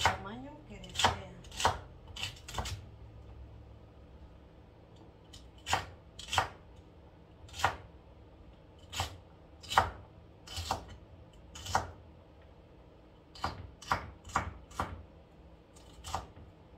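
Celery being chopped with a knife on a cutting board for alphabet soup, sharp close knocks coming in irregular bursts and clusters with short pauses between, no talking.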